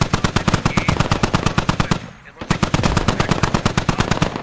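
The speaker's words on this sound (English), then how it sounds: "Max on the HMG now trying to return fire on the American HMG at distance" Heavy machine gun in a military video game firing long, rapid bursts of loud, evenly spaced shots, with a brief pause midway before the steady hammering resumes.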